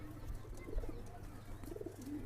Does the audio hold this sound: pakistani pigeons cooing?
yes